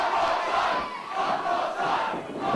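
A wrestling crowd at a singles match chants and cheers in a continuous rhythmic roar, swelling and dipping in regular waves of massed voices.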